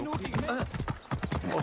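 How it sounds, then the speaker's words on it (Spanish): Horse galloping in the Assassin's Creed Origins video game, with a quick, steady clip-clop of hooves at close range over a busy game soundtrack. "Vaya pedazo de cacho de salto para subirse al caballo."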